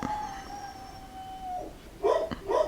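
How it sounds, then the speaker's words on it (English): A dog howls in a long, drawn-out wail that fades out, followed by a couple of shorter, higher yips or whimpers, close by and fairly quiet, with no talking. "That dog drives me crazy."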